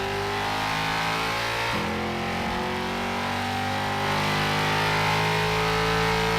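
Race car engine in a video game screaming at top speed, a loud sustained high-revving whine with a brief gear-shift dip partway through and no speech.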